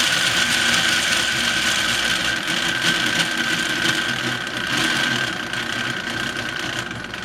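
A vintage Marx toy locomotive (model 333 or 999) runs slowly with a steady mechanical whirr and a fine rhythmic clatter of its motor and piston rods, fairly close and continuous, with no voices.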